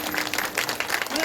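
A seated kirtan audience breaks into loud, dense clapping during a comedy kirtan performance, sustained hand claps filling the space for the whole stretch.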